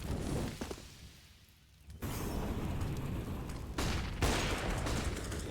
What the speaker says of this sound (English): Here's those shots being fired